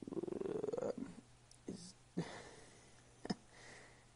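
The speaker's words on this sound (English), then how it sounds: "That's underscore Kenny underscore the cat" A cat purrs close by in a steady, rumbling drone during a home livestream. Soft breathy sounds and a few faint clicks and taps follow.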